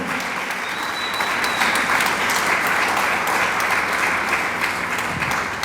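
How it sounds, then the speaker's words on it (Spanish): A church congregation claps during a sermon, the applause building into a full, continuous roar that holds steady throughout. "dele palmas al Dios del cielo"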